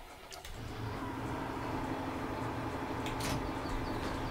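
Tractor engine in a farming video game starting up and settling into a steady, loud idle rumble after a brief quiet moment, with no talking.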